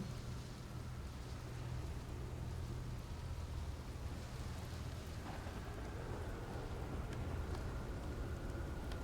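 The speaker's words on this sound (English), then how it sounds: "It's like, I hear a storm, but I don't see it." Steady, dense rain hiss with low rumbling thunder underneath, heard throughout a storm in the video game Outer Wilds; a constant, enveloping wash with no talking.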